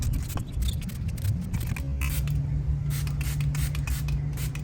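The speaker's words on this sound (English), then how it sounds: "go ahead and spray this down" A spray bottle misting application fluid onto a car taillight during a vinyl overlay install, heard as repeated short hissing bursts close to the mic over a steady low background hum.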